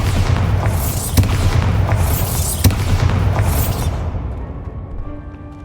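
Spell explosions from the Bombarda curse in the Hogwarts Legacy video game: three loud booming blasts about a second and a half apart over a dense rumbling game soundscape, fading to a quieter tail.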